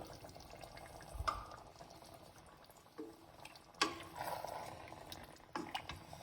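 Chicken pieces being stirred in a pot with about a cup of water added for Chettinad chicken, giving soft wet scraping and sloshing in a few separate bursts over a low, steady background.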